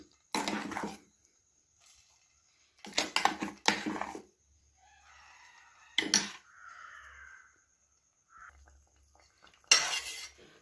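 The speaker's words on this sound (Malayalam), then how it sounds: "അരച്ചു വെച്ച മത്തങ്ങ മുഴുവനും ഇട്ട് കൊടുത്തു" Ground pumpkin paste going into melted ghee in a pan for pumpkin halva: a few short, clattering utensil clinks and scrapes at spaced intervals, with quiet gaps between and no talking.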